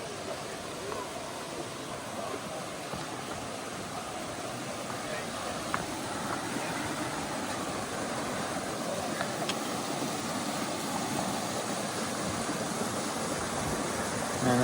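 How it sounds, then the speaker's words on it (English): Steady broadband rush of a big waterfall beside a clear mountain stream in the 100 Mile Wilderness of Maine on the Appalachian Trail, a continuous even roar heard alone throughout. "Big waterfall up here."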